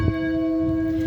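Church bells in Portland, Ontario ring out in a single sustained toll, a bright metallic strike followed by steady, humming overtones that hang evenly for about a second without any voices.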